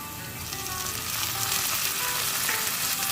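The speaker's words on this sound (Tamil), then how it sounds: "தக்காளியை சேர்த்து தக்காளி நல்லா பேஸ்ட்டாக வதங்கணும், அது வரைக்கும் இதை வதக்கிக்குவோம்" Chopped tomatoes and golden onions sautéing in a pan for a Tamil chicken fry: a loud, close, continuous sizzle and crackle that holds steady throughout, with no voices.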